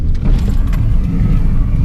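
Stunt car driven balanced on two wheels along a race track, its engine giving a steady, loud low rumble throughout with no breaks.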